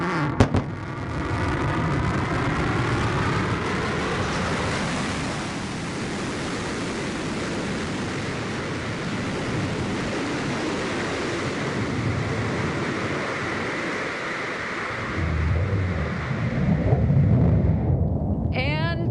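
A New Shepard rocket's BE-3 engine relights for its powered landing, a continuous broadband roar that stays steady and loud for most of the stretch and then swells into a deeper rumble near the end, with a commentator's voice partly buried underneath.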